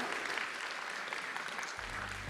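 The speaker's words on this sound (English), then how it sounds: "Please give them a big round of applause." Forum audience at an HRD Corp open day in Sarawak applauding the speakers, a continuous, dense burst of clapping heard close and steady for the whole short stretch.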